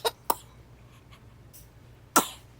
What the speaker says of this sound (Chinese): 你怎么在咳嗽？